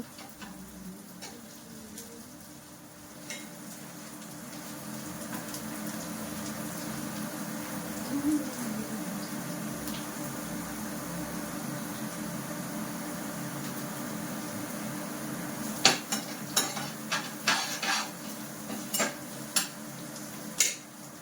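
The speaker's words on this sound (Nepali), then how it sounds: "अनि त्यसपछि मैले 2टा ठुलो प्याज लिएको छु। प्याजलाई अब पकाउँछु एकछिन।" Two large onions frying in mustard oil in a pot for a Nepali-style mutton curry, a steady low sizzle throughout with occasional sharp clinks and stirring scrapes near the end.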